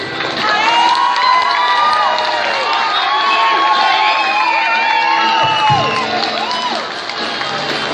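Crowd of shoppers at a live event in a shopping mall shouting, cheering and whooping continuously and loudly, with whistles and voices overlapping throughout.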